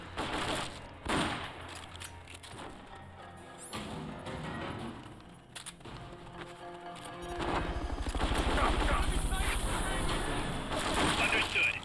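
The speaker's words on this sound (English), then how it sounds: "Did you hear that? Gunshots!" Gunfire from the video game Metal Gear Solid: Peace Walker HD Edition, scattered shots and bursts with crashes over game sounds, moderately loud with some quieter gaps.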